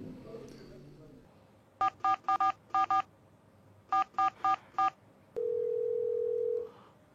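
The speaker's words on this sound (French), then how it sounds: "Ça sonne." A telephone call begins with two quick runs of keypad dialing tones, then one long, steady ringback tone sounds on the line before cutting off, all clear and close with quiet background.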